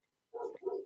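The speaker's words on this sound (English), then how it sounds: "Go quiet the dog." A dog heard during a phone call gives two short, muffled barks or woofs in quick succession, fairly faint and alone.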